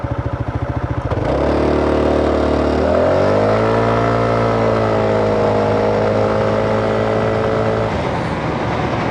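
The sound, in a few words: Kymco KRV180TCS scooter accelerating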